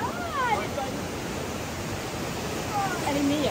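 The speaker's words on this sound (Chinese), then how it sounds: "看一看这边的浪也很大啊" Ocean waves surging against the rocks at Tanah Lot temple in Bali, a continuous broad roar of surf and wind heard outdoors, with brief voices in the background.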